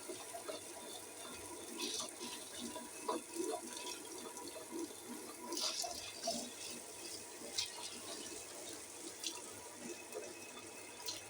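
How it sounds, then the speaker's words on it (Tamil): Water poured into a wet grinder holding soaked urad dal for idli and dosa batter, a soft steady trickle and splash with faint clinks, fairly quiet throughout. "முதல்ல மட்டும் கொஞ்சம் தண்ணி நிறைய ஊற்றணும்."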